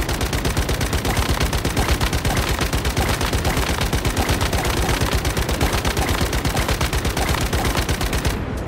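Rapid sustained SMG gunfire in the survival shooter Once Human, a loud continuous stream of closely spaced shots running for several seconds without a break, no talk.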